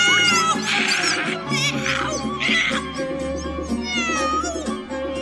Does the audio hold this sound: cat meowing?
yes